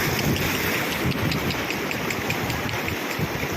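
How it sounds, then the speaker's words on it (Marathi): Ocean waves wash steadily onto a beach on the Konkan coast, a continuous broadband surf roar with wind noise across the microphone and no distinct voices. "ते बघ ते लाटा बघ लाटा"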